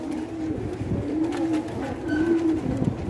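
Pigeons coo steadily and close by, their low rolling calls repeating in overlapping phrases from a kept flock of high-quality birds, with no voices.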